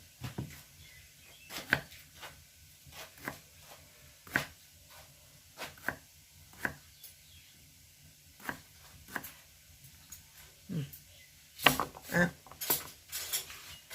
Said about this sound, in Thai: หั่นบักน้ำแล้วล่ะค่ะ